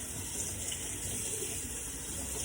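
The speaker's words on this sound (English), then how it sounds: "I will run the water over all of it." Tap water pours steadily from a faucet over hand-dyed fabric being rinsed in a sink, a continuous broadband rushing hiss held at an even level throughout with no voices.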